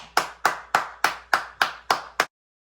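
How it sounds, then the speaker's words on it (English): Eight crisp, evenly spaced hand claps ring out alone in a steady beat during a children's letter-sounds lesson, each sharp and close, then silence. "Give yourselves a hand clap."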